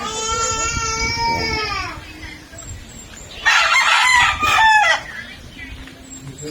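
A Black Astrolord rooster crows loudly nearby, followed by a second, rougher crow and some faint background clucking, in a backyard farm.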